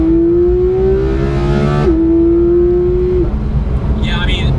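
A Porsche 991 GT3 on the move, its engine holding a high, raw, shrieking tone that dips briefly and then continues near and loud inside the cabin.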